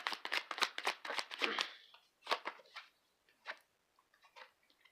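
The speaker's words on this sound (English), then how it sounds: "So I'm going to pick one more card." Tarot cards being shuffled and picked by hand, a quick run of crisp riffling flutters followed by scattered softer card slides and taps, close and fairly quiet, with no talk.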